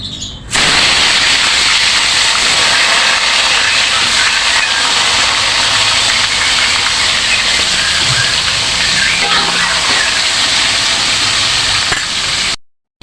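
Bitter melon frying in hot oil for a Padang-style dish, giving a loud, dense, unbroken sizzle that holds steady throughout before cutting off abruptly, with no talking.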